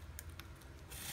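An X-acto knife slicing through craft material in a design class, several short, close scraping cuts in quick succession over a low background hum, with no one talking.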